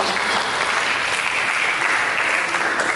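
A church congregation claps for Jesus in a continuous, even burst of applause, moderately loud and close, with no speech on top.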